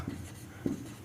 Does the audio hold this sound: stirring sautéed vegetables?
no